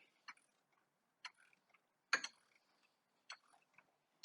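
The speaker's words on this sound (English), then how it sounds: "we're going to run a ratchet backwards" A ratchet turned backwards on the power steering pump pulley of a 1996 Ford Ranger 2.3 gives sparse, sharp clicks at irregular intervals, one louder burst near the middle, in a quiet setting.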